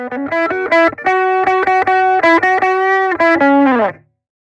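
Electric guitar run through the Klevgrand Stark CM amp simulator with heavy distortion, a loud strummed chord sequence in steady rhythmic bursts, ending on a held chord that cuts off abruptly.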